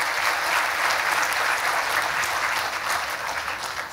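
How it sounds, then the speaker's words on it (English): A large audience at a motivational talk claps continuously, a dense, loud, even wash of applause with no voice over it. "Big round now, everybody should clap."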